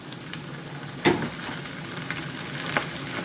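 Onions and peas fry in a pan with a steady close sizzle, broken by a few stirring scrapes and clinks, no talk.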